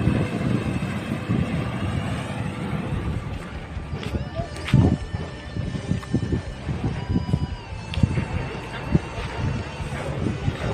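Steady wind by the sea atop a large sand dune roars and buffets across the whole stretch, with scattered thumps and a voice speaking now and then underneath.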